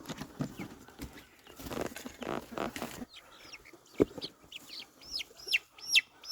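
A flock of chickens out on pasture clucks and chirps in short, bright calls close by, with light rustling and shuffling early on before the calls take over. No one speaks.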